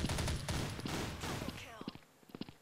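Rapid bursts of gunfire in the video game Blood Strike crackle loudly, then thin into scattered single shots and footsteps, with a voice speaking over it.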